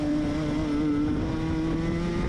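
Racing car engine revving down a straight during a race, a steady sustained drone with a continuous whining harmonic tone, held at fairly even loudness with no talk.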